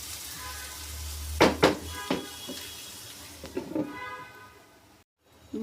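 Bottle gourd peel with cumin frying in a pan sizzles steadily under a few sharp utensil clanks and knocks, then the lid goes on and the sound drops to near silence.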